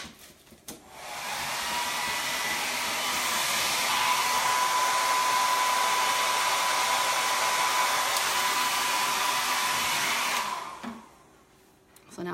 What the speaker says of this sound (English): I'm going to blow dry it